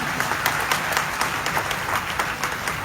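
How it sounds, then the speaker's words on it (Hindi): A crowd at a Karni Sena rally applauds for Chaitanya, a dense patter of many hands clapping at once that stays steady and fairly loud with slight surges, with no speech over it. "चैतन्य के लिए ताली नहीं बजाए तो काम अधूरा रह जाएगा"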